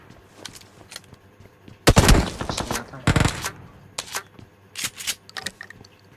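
Sharp pistol gunshots in PUBG Mobile crack out in a few quick bursts, loud and close, separated by short pauses with faint clicks in between.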